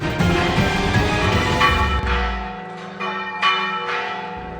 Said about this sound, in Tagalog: Pinatunog ng kampana ng Holy Trinity Parish sa Luway, Bohol sa pagdiriwang ng Pasko ng Pagkabuhay.